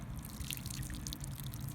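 Water drips and patters steadily while garlic is watered in a home garden, a soft continuous trickle over a low background rumble with no talking.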